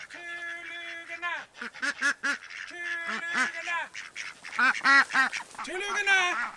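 Ducks quack in loud, rapid bursts close by, mixed with a person calling out repeatedly while herding free-range ducks to bed.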